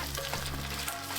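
Pad Thai noodles frying in a pan as egg is folded through them, a dense continuous sizzle with soft stirring scrapes, close and even, heard alone for a brief moment.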